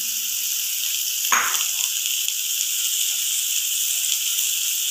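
Cabbage frying in a pan with a continuous bright sizzle and hiss, one brief louder burst of stirring or tossing near the start, steady throughout with no talking.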